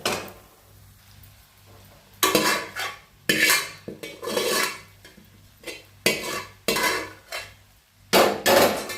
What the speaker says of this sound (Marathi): सगळे मसाले फ्राय करून घ्या. पास्ता आपण याच्यामध्ये घालूया.